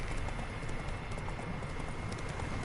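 Horse hooves clip-clop in the video game Witcher 3, a steady rapid rhythm of close hoofbeats running throughout over a faint constant background hiss.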